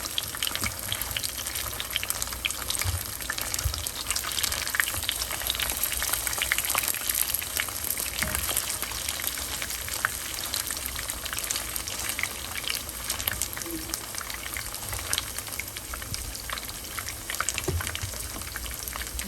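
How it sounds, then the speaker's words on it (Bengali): Fish kofta kebabs for a curry frying in hot oil give a dense, even crackle and bubbling that runs throughout at a moderate, close level, with no voices. "এই যে আমার মাছ মাছ এই কাবাবটা ভাজা হয়ে গিয়েছে"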